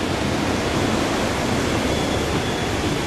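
Water flowing steadily through the middle of Fort Creek in Hot Springs Village, a continuous broadband rushing close to the listener, loud and unbroken with no voices.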